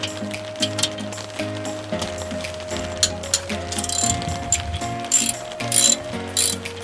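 A ratchet wrench cranks a 1/2-inch brake caliper bolt loose during a slider pin service, with rapid, close metallic clicking in repeated bursts and a few light clinks, and no talking.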